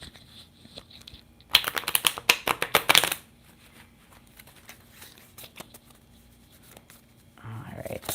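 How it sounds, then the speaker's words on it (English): A tarot deck is shuffled up close in a fast riffling burst of papery flicks lasting about a second and a half, with quiet room tone before and after and a brief voice at the end. "I'll give it a shuffle."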